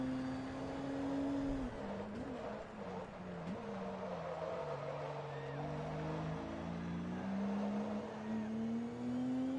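A race car with a damaged engine in Forza Motorsport 2 drones steadily and loudly, its pitch dipping and climbing through gear changes as it charges through the pack.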